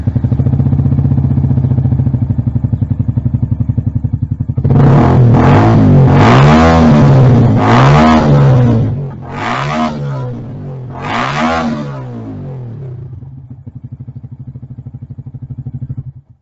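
A Yamaha motorcycle fitted with a Yama D 46 exhaust idling with a loud steady rumble, then revved hard in a series of five sharp throttle blips before settling back to a lower idle.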